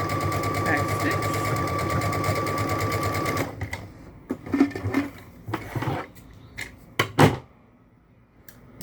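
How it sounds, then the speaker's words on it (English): A sewing machine runs steadily for about three seconds stitching the side seam of a tank top, then stops, followed by fabric handling, clicks and light bumps. "So we're going to sew that up."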